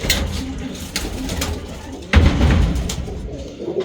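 Roller pigeon cooing softly amid low shuffling and a thump, with a few short coos over a steady background rumble.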